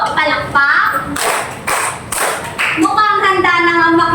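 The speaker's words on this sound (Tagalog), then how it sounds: "bigyan niyo nga ako ng 3 palakpak" Children in a classroom give three sharp claps in a row, with an adult talking before and after.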